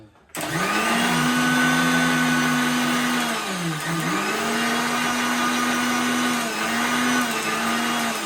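A kitchen blender grinds spice paste in one long, loud, steady whir, its motor pitch dipping and rising as the load shifts, with no talk over it.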